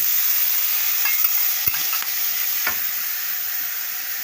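Continuous sizzling of instant noodles stir-frying in vegetable oil, with a few sharp scrapes and clinks of a utensil stirring in the pan.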